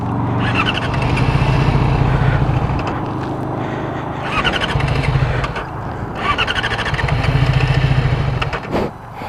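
A Yamaha R6 motorcycle in traffic is cranked repeatedly in three long bursts of starter whirring and sputtering that never catch, each separated by brief pauses.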